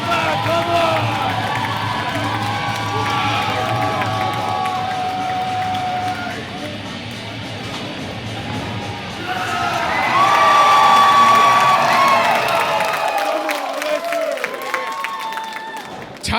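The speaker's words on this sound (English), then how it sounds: "getting the crowd fired up here" A wrestling crowd cheers and shouts in a large venue, a sustained roar with whoops and clapping that swells and then fades, while a voice shouts over it.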